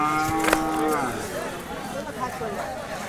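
At a cattle market, a crossbred bull lets out a loud, drawn-out moo near the start, then livestock sounds continue under steady crowd chatter and nearby talk.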